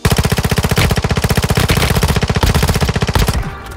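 Rapid automatic gunfire in Call of Duty: Warzone Mobile, a fast steady burst of shots lasting several seconds before cutting off, loud and close.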